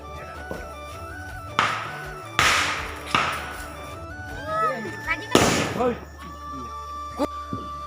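Diwali firecrackers burst nearby in several sharp, loud bangs spaced a second or two apart, with whistling crackle between blasts and people talking in the background.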